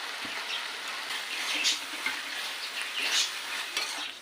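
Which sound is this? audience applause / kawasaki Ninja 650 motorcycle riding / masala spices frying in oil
masala spices frying in oil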